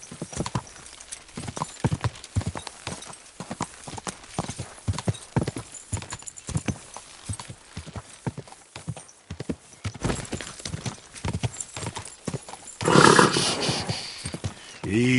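Horse hooves clip-clop in Kingdom Come Deliverance 2, a quick, steady run of close, distinct footfalls. Near the end a louder burst breaks in, which may be a neigh or a shout.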